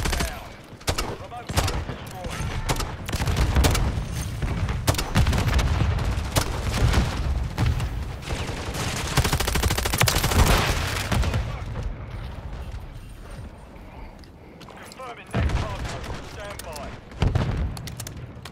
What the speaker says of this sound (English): They got a sentry gun over there.